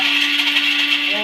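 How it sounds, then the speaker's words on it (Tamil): A kitchen mixer grinder whirs steadily at close range as it grinds a dry blend of fennel, coriander, cumin and cinnamon, a loud, even buzz that fills the whole short moment. "சோம்பு, மல்லி, மெழுகு, ஜீரகம், பட்டை எல்லாத்தையும் ஒரு அரை அரைச்சிக்குவோம்."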